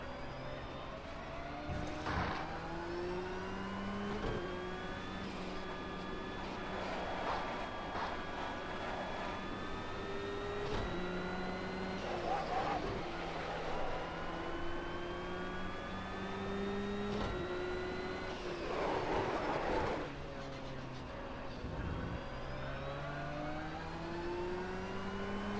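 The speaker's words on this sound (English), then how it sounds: "The engine's taking a bit of a beating because of the oil temperature that's been a constant high throughout the race" A video game race car engine runs steadily and loudly throughout, its harmonic tone rising and falling with revving and gear shifts, suffering from a constantly high oil temperature.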